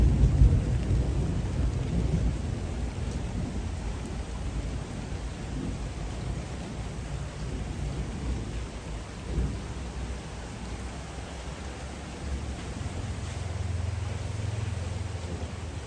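Heavy rain pours steadily with deep rumbling thunder rolling underneath, a dense, loud wash of water with low booms swelling and fading.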